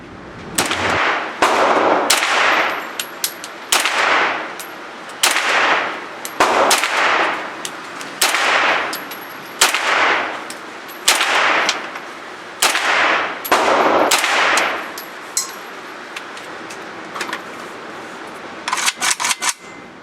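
Kalashnikov KR-9 rifle fired outdoors at a range, loud sharp single shots at a fairly regular pace with ringing tails, ending in a quick rapid burst.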